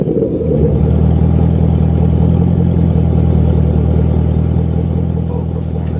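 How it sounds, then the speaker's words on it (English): A car engine runs loud and close, its deep rumble rising briefly as it revs and then holding at a steady, throaty roar throughout. "can I get a car that sounds like that one day?"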